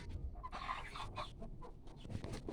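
Laying hens cluck softly and irregularly close by in a coop during egg collection, with scattered bursts of clucking among faint shuffling and background noise.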